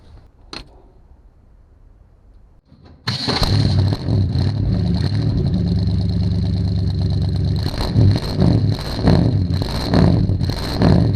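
A car engine turns over and catches during a test drive after a disc brake conversion. It then runs loud and close with a steady, rough roar and a few revs, following a quiet stretch before the start.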